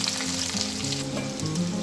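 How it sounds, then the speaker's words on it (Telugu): Onions and green chillies hitting hot oil for a chicken curry, a close, dense crackling sizzle that fills the short moment. "ఇప్పుడు ఆయిల్ హీట్ ఎక్కింది. ఇప్పుడు మనం ఉల్లిపాయలు పచ్చిమిర్చి వేసుకుందాం."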